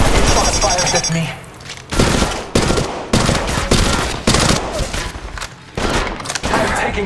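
Gunfire in the mobile game Apex Legends Mobile, with dense bursts of rapid shots and booming impacts, loud and close, coming in waves with brief gaps and some in-game voice chatter mixed in.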